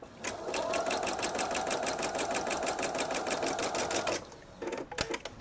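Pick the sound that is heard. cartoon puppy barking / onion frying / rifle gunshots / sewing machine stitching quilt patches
sewing machine stitching quilt patches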